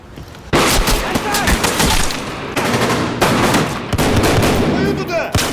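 Film scene gunfire with bullet squib hits, loud rapid bursts of shots and sharp impacts cracking continuously across the clip, with brief pauses between volleys.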